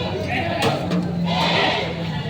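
A goat bleats at a crowded livestock market in Padre Garcia, Batangas, a couple of wavering cries standing out close over the steady murmur of people talking and market bustle.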